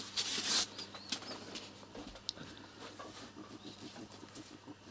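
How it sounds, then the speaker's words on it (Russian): Pigeons and their chicks inside a house flutter and shuffle close by, with a burst of flapping wings at the start followed by faint scratching, pecking and soft rustles. "Вот маленькие голубята."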